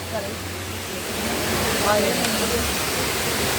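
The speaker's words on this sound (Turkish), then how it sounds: "Mutlaka gelin arkadaşlar Antalya Düden Şelalesi." Düden Waterfall in Antalya roars as a steady, broad wash of falling water that swells slightly partway through, with a faint voice briefly audible beneath it.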